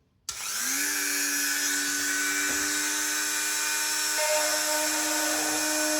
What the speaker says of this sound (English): I'm going to drill out the corners and then cut with a knife across the straight bits.